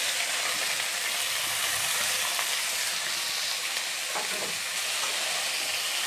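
Potatoes and fish frying in a pan with chillies and sour greens, a steady close sizzle with soft scraping and stirring sounds throughout.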